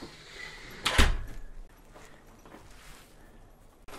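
A door being pushed or opened gives a single sharp thump about one second in, close and fairly loud, followed by quiet indoor room tone.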